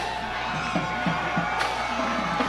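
A high school football crowd cheers at a region championship trophy presentation, a steady roar of voices with scattered whoops and shouts heard from within the stands.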